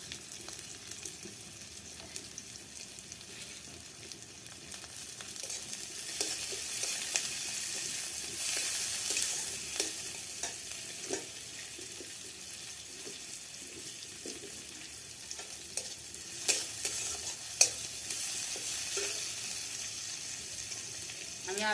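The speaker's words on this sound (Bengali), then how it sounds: "পেঁয়াজের উপরে আমি শুকনো লঙ্কা দিচ্ছি কেটে" Dried red chillies fry over onions in a pan on a windy outdoor wood fire, giving a steady, moderate sizzle that swells midway, with occasional faint clicks and scrapes and no talking.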